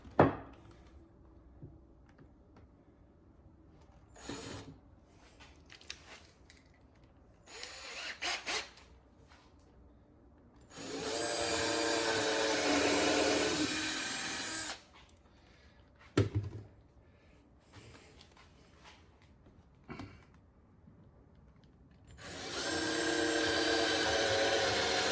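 Power drill driving screws into a wooden patio chair: scattered clicks and handling knocks, then two sustained loud whirring bursts of drilling, close and without talk.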